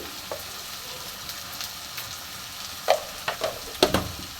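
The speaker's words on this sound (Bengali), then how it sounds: "এবার মশলাটাকে ভালো করে কষবো" Spice paste of mustard, chili, garlic and cumin with turmeric and salt frying in a pan, a soft sizzle with several sharp clicks of stirring toward the end.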